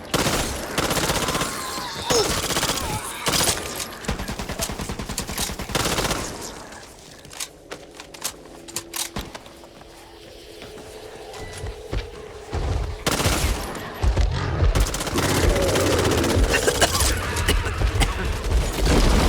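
Rapid, loud bursts of gunfire from the video game Back 4 Blood rattle in dense fusillades, fade to a quieter stretch with scattered shots, then return in heavy volleys near the end.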